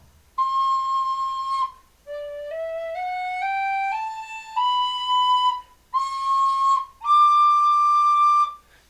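A D tin whistle plays a held note, then a stepped run of rising tones, then more sustained pitches, each clear and pure with breathy edges, played solo with no talk.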